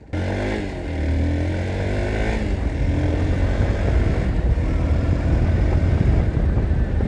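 A motorcycle cruises at about 55 to 60 km/h with a steady engine drone and constant wind roar, loud and continuous, with no talk.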